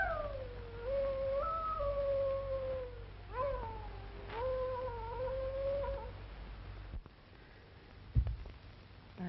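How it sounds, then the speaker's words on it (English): A dog howls in long, wavering wails that rise and fall over a steady low hum, with a pause and a soft thump near the end. "I wish you'd stop that awful howling."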